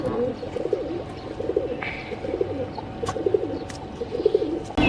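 A Hiralal pigeon coos close by in a run of soft, rhythmic throaty phrases repeating every second or so against light background noise.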